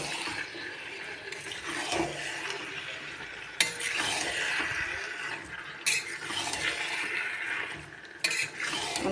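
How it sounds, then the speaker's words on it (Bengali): Marinated chicken tipped into spiced masala in a pan, with a steady close sizzle and hiss under intermittent scraping stirs and a few sharp clatters of the utensil against the pan, no voices. "মশলাটা কষা হয়ে গেছে, এবার আমি ম্যারিনেট করা চিকেনটা দিয়ে দেবো।"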